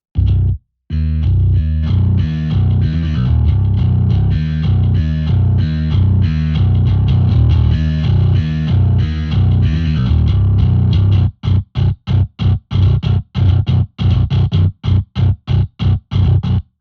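Heavily distorted metal bass guitar tone through the Seismic plugin, a higher gain amp blended in, playing a loud, dense chugging riff that runs steadily before breaking into short, choppy stabs with gaps near the end; no voices.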